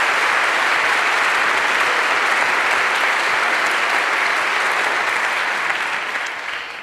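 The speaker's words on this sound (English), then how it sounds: "could you give them a big round of applause for learning all of this music?" A concert audience applauds choir singers, a dense, steady wash of clapping that holds loud throughout and only starts to thin in the final moment.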